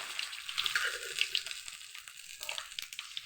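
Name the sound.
food sautéing in a pan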